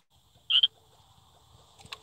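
Frog croak from the video game Crossy Road, a little red frog character: one loud, bright double chirp near the start, then a fainter croak near the end over quiet game background.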